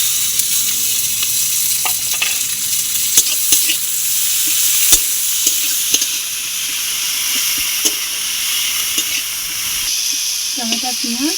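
Tomato and onion sizzle steadily in a hot pan, with intermittent utensil clicks and scrapes and a brief hiss of steam; a voice talks briefly near the end.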